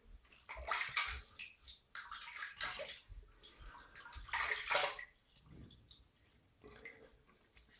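Water splashes as hands wet a face before a shave with a dollar-store razor. Soft, close splashes and dribbles come in several irregular bursts, with quieter gaps of trickling water between them.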